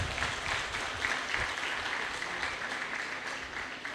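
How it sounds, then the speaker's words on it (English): Audience at a graduation ceremony claps for honoured students, a steady, moderately loud roll of many hands with a few sharper individual claps standing out, sustained throughout without speech. "they deserve a resounding round of applause"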